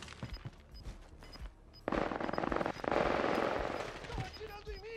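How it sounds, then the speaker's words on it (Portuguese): Gunfire in the Warzone Pacific video game: scattered shots give way to sustained bursts of automatic fire, loud and close, with game sound effects and voices underneath. "Tá atirando em mim!"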